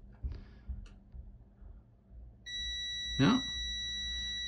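Continuity beeper of a multimeter testing an Atari ST keyboard, a steady electronic tone switching on partway and holding to the end, with a brief louder burst over it; a voice speaks briefly before it starts.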